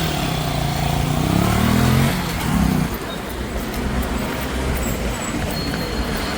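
A motorcycle engine starts and runs, with a throaty, rising idle early on that settles into a steady running rumble mixed with background road noise.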